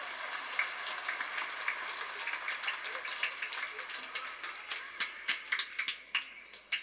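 Scattered clapping from a church congregation during a Mass for Corpus Christi and First Communion, a dense patter of many hands that grows into sharper, louder individual claps toward the end.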